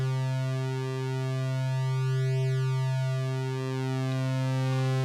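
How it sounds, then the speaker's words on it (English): Pulse width modulation on a Pittsburgh Modular Local Parks oscillator: a steady, buzzy synth tone whose harmonics sweep and shift slowly, heard alone and loud throughout. "So as you can hear, this is a standard pulse width modulation."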